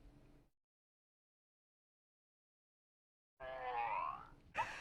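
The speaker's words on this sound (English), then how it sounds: "is the sound of a Charizard snoring." A LEGO Pokémon smart brick plays its Charizard snoring effect: a short noisy burst, a long silence, then a loud warbling electronic tone lasting over a second that ends in a sharp chirp.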